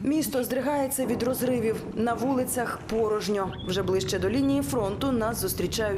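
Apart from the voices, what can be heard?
No everyday noises stand out.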